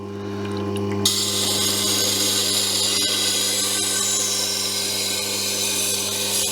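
Electric sharpening wheel grinding a steel blade edge to work off the burr, a steady loud motor hum under a continuous bright hiss of metal on abrasive, close and alone without speech.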